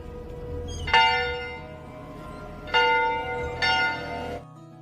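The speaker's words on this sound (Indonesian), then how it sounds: "Segera penjaga pun langsung membunyikan lonceng peringatan." A tower guard rings a warning bell, three loud, ringing metallic strikes spaced unevenly, each one resonating and slowly fading, heard alone against a low background.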